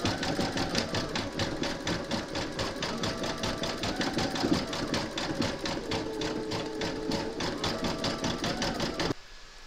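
Embroidery machine zigzag-stitching two appliqué segments of a large parrot design together, a steady rapid needle rhythm running close and loud without pause for about nine seconds, then stopping abruptly.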